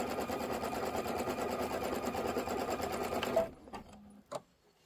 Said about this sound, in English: I'm going to let it go ahead and stitch all the way down to the bottom